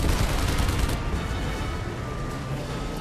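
Sustained gunfire at a tank in The Saboteur, a dense, continuous rattle of shots that stays loud and steady throughout with no voices over it.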